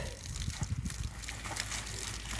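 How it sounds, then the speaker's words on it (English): Water sprayed over seedlings in a dacha garden in Khabarovsk, Russia: a soft, steady spattering and trickling hiss, fairly faint and continuous. "I'm also going to water the rasada right here."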